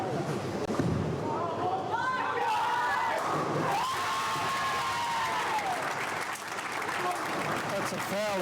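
A crowd at a junior tenpin bowling match applauds steadily, with clapping and scattered cheers filling the space under loud commentary voices.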